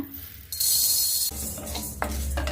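Toor dal dry roasting in a heated heavy-bottomed pan, giving a dry rattling, scraping stir with a faint sizzle, close and fairly loud, in uneven bursts as the lentils are moved around.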